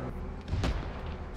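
A single heavy tank cannon shot booms in the ARMA 3 war game, a deep, brief blast in the middle of the clip against a low, steady rumbling background.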